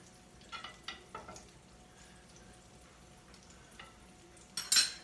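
Butter and olive oil swirl in a hot skillet, giving a faint, steady sizzle with a few light clinks of the pan, then a brief louder hiss near the end.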